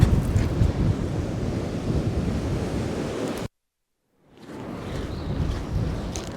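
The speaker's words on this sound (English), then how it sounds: "There's a big old crosswind blowing." A strong crosswind blasts across the beach during shore fishing, roaring over the microphone alongside surf, then cutting out abruptly before the gusts build back up.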